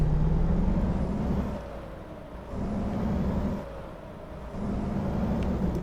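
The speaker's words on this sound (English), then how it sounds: "geez, that's an annoying truck" A large truck passes nearby with a loud, low engine drone and rumble that swells and fades in waves, with a sharp air-brake hiss and whine riding on top.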